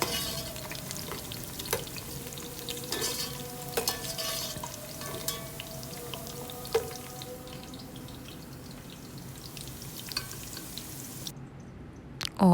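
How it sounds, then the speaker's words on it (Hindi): Onions browning slowly in oil over a low flame, with a steady soft sizzle and occasional spoon scrapes and stirring clinks against the pan, close and continuous, fading near the end. "तो बस अब ये स्लो फ्लेम पे जो है वो मैं प्याज ब्राउन कर रही हूँ।"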